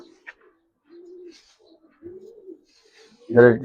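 Giribaz pigeons of the silver pankhi, dhapri type give a few soft, low coos in a quiet indoor spot, with a louder voice cutting in at the very end.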